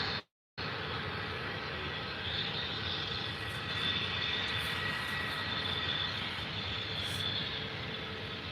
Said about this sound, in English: that is a Boeing, a Boeing 737